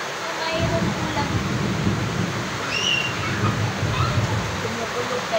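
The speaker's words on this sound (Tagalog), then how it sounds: "Mayroon ulan." Steady heavy rain pouring down outdoors, with a low rumble of thunder mixed into the continuous hiss, and children's voices and talking heard over it.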